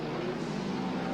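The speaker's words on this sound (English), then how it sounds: "we've got 6 laps remaining this time as they cross the post, and Pollock has that extra horsepower under" Midget race cars on a racing circuit, their engines droning together in a steady, dense roar, loud and continuous for about a second with no clear breaks.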